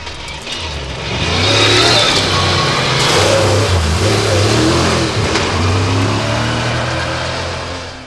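Rally car engine revving and accelerating hard along the fast Sweet Lamb stage, loud and sustained with rising and falling pitch as it changes gear, no talk.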